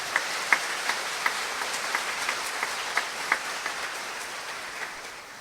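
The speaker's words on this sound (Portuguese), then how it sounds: "Vamos aplaudir a palavra de Deus." Congregation at a religious retreat clapping together, a sustained patter of many hands with a few sharper individual claps standing out, fading slightly toward the end over roughly five seconds, with no talk.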